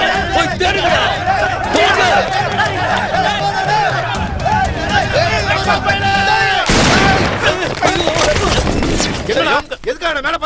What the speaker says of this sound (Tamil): எதுக்காக மேல பார்த்து சுட்ட?